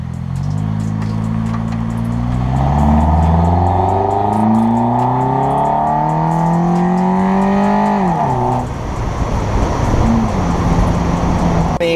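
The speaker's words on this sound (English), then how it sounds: "once the car warms up and the exhaust is real hot, it does sound a little bit better" A car fitted with a Borla exhaust, suspected of being faulty, revs up with a loud rising drone. The drone sweeps upward, then drops back to a rumbling idle, close and continuous.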